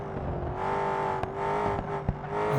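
A BMW M6 in BeamNG Drive holds a steady, droning exhaust burble with a couple of brief pops and clicks layered on top, close and even in level throughout.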